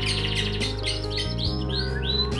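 White-rumped shama (murai batu) sings a series of clear, loud whistled and chirping phrases that rise and fall rapidly, over a faint steady background hum.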